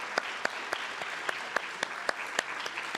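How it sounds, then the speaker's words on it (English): An audience at a school music awards event applauds the All-State instrumentalists, with steady clapping from a sizable crowd and a few sharper individual claps standing out, moderately distant. "How about one more round of applause for the All-State instrumentalists?"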